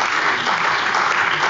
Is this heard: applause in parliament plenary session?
yes